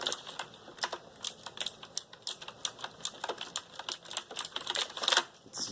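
Rapid clacky keystrokes on a heavy, massive Razer gaming keyboard, loud and close, in an irregular typing rhythm with sharp transients throughout and no talking.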